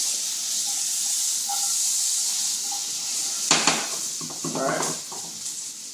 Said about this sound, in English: We're going to add 1 cup onions and onion tops. A little out of there. We're going to saute that together.